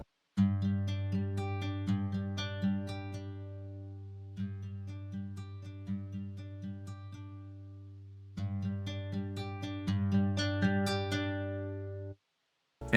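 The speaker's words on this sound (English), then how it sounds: "So let me play around with that so you can kind of hear how it sounds." UJAM Silk 2 virtual guitar instrument with picking force varied: three phrases of plucked nylon-style notes and strummed chords, quiet and clean, the attack strength rising and falling between passages, no talk.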